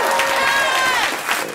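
A studio audience at a comedy show bursts into loud cheering and applause, with shouts and whoops mixed into a dense, steady crowd roar.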